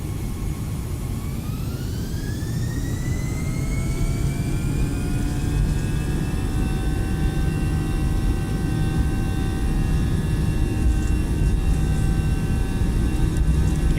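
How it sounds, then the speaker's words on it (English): Simulated Airbus A318 jet engines spooling up for takeoff from Mexico City in Microsoft Flight Simulator 2020, a steady loud roar with rising whining tones that climb then level off, continuous and alone with no talk. "enjoy the sounds of our A318 as we depart Mexico City for Cancun"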